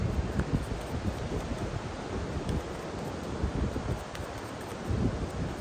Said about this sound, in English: It's a little windy, but I feel like the wind as well as the ocean are working with us.